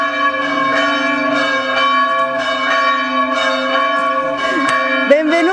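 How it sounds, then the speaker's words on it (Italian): Church bells ring steadily and loudly in an Italian countryside setting between Ponte d'Arbia and San Quirico d'Orcia, rich sustained tolling with repeated strikes throughout, close and dominant with no talk over it. "Non dovevi disturbarti con le campane."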